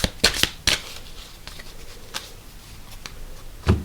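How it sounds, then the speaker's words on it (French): Merchant cards for the Century Golem Edition board game shuffled by hand: quick papery riffles and flicks, close and crisp, with a few sharper snaps at the start and end. "on mélange les cartes marchands"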